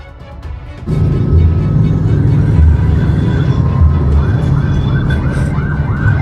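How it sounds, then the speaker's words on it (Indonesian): An ambulance siren wails steadily and loudly from close by, its rising and falling tone repeating over a low vehicle rumble. "wah ini ambulan siapa nih?"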